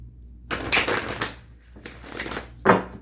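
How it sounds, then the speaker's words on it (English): Tarot cards being shuffled and cut, with soft rustling bursts and a sharper snap near the end, close up and alone. "Now, let's shuffle and cut to get your final word of encouragement."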